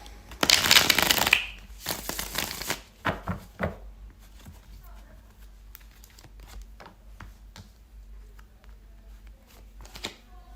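Tarot cards shuffled during a live reading: a loud, dense riffling burst up front, then a few shorter shuffles and soft card taps fading into a quiet room.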